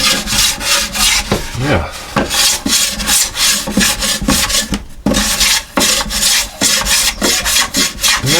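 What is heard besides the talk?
sanding wooden top of cigar box guitar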